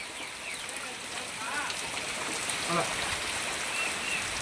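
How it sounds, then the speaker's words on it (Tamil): Floodwater pours into a house with a constant rushing, splashing flow that fills the whole stretch. A voice is faintly present beneath it. "அங்கேருந்து தண்ணி இங்கே வரையும் உள்ளே வந்துக்கிட்டே தான் இருக்குது"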